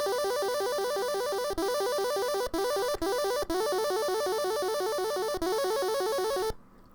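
Gurgling ring-modulated chiptune synth tone programmed in GoatTracker, a bright buzzy repeating arpeggio pattern with a few brief dropouts, playing loud and steady for about six seconds before cutting off abruptly.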